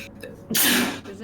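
A single loud, close sneeze bursts out abruptly after a short inhale, with quiet voices around it.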